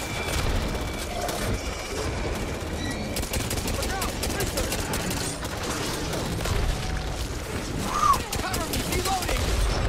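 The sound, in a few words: pistol gunfire in the video game Back 4 Blood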